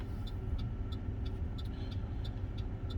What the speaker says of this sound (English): That is a nice old car.